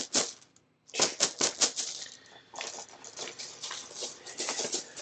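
Dice for the Stuffed Fables board game rattle and clack inside a cloth bag, a burst of sharp clicks, a short pause, then a longer run of jostling rattles, close by.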